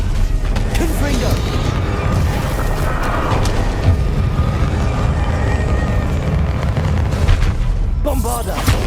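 Spell blasts go off during a Hogwarts Legacy battle on PS5: loud, dense booms and rumbling explosions roll on continuously, with voices shouting incantations over the din.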